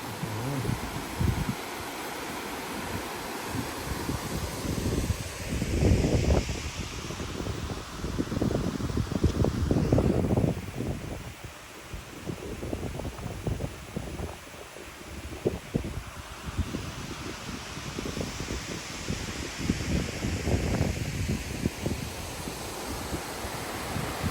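Strong wind blowing outdoors, a continuous roaring gust with heavy rumbling buffeting on the microphone that rises and eases over time, with no voices.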